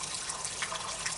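Spring water runs steadily beside a bench near Rača Monastery, close to the Drina River, a continuous soft splashing trickle with no voices.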